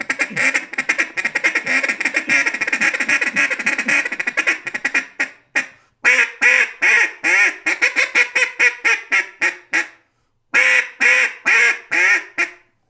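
A duck call is blown by a waterfowl guide, imitating a run of loud, close, rhythmic duck quacks in rapid bursts with short pauses between sequences.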